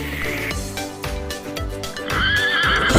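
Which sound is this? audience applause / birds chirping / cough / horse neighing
horse neighing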